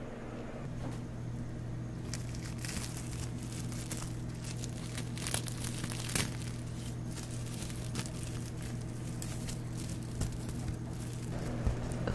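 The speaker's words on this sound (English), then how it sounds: "we should be good to take off that plastic now" Plastic wrap is slowly peeled off a fresh tattoo, with quiet, close crinkling and soft tearing that goes on steadily for several seconds, with no talking.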